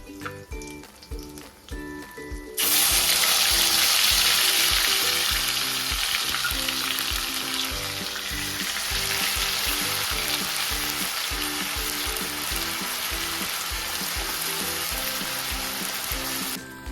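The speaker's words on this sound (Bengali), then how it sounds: "পেঁয়াজ আদা রসুনটা আমাদের ভাজা হয়ে গেছে" Onion, ginger and garlic paste hits hot oil in a pan for prawn malai curry. A quieter crackle before it jumps to a loud, roaring sizzle that keeps going strongly to the end.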